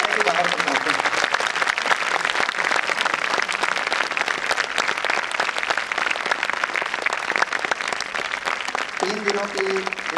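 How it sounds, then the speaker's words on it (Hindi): A conference audience claps loudly and steadily at a valedictory function, a dense, sustained wash of applause through the whole stretch with a voice faintly audible near the end. "जोरदार तालियां बजाएं अगर आपकी अच्छी कॉन्फ्रेंस हुई तो जोरदार तालियां बजाएं, इतनी तालियां बजाएं कि बाहर तक पहुंचें।"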